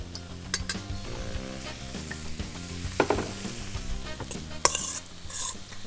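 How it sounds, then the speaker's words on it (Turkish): Orzo and lentil salad being stirred in a pan with olive oil: steady spoon scraping and light sizzling throughout, with a sharper clatter near the end, no talking. "Ve tekrar bir karıştırın."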